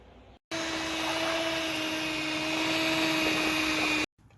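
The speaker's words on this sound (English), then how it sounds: "So using electric mixer, we just shred the beef, and there you go." An electric mixer shreds slow-cooked beef seasoned with crushed tomato, giving a steady, loud motor whine for about three and a half seconds that starts and stops abruptly, with no talk.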